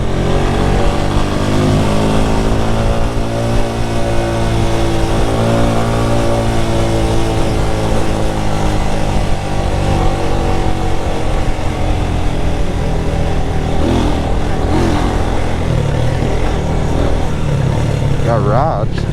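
A motorbike rolling slowly along a Jamaican street, its engine a steady, close, low droning hum with no strong revving, while voices talk over it throughout.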